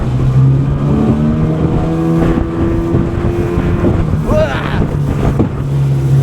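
A small aluminium tinny boat's outboard motor runs at about half throttle near Fraser Island, droning loudly and steadily up close, with wind buffeting the microphone throughout.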